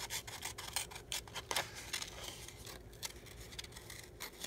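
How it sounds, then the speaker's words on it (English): Scissors fussy-cutting paper around a circle for a travelers notebook list insert: soft, quiet rasping snips repeat in an uneven rhythm, close by, with no voices. "We're going to go ahead and fussy cut around the circle."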